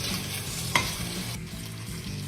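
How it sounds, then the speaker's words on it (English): Brisket fat and vegetable oil sizzling in a pot as they are stirred, a steady close crackling hiss with a brief scrape of the utensil partway through. "So here's that brisket fat we talked about, along with a little vegetable oil. So we'll get some of that fat rendering also."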